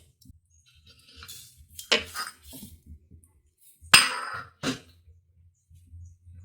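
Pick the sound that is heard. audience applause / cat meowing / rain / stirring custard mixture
stirring custard mixture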